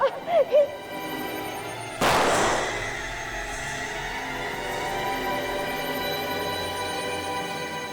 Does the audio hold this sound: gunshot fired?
yes